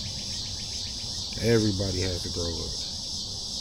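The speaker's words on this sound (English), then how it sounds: "And I think the cicadas agree." Cicadas keep up a steady, high, shrill drone outdoors throughout, while someone speaks briefly partway through over the insect noise.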